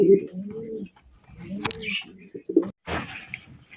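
Soft pigeon coos come in short bursts, close by, with brief pauses and a faint chirp between them.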